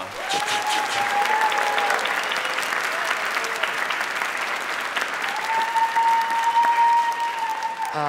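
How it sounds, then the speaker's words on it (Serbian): An audience applauds at an awards ceremony for the best series of the year, with dense, sustained clapping filling the hall for several seconds and a faint background tone. "molim vas da aplauzom pozdravimo prvog kandidata za najbolju seriju godine"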